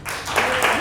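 Audience applause at a live improv-style theatre show as the crowd votes for a scene, a dense, steady wash of clapping held at even loudness throughout, close and full.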